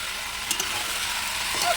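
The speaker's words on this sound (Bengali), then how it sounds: "দিয়ে আস্তে আস্তে করে মাংসটাকে ভালো করে কষিয়ে নিচ্ছি" Chicken meat slowly sautéed in a pan over a low flame, with a steady soft sizzle and faint stirring scrapes throughout, close and fairly quiet.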